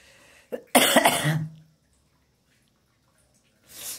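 A person with a cold gives a short, harsh cough burst with a throaty rasp, close by indoors, preceded by a small catch of breath and followed by quiet.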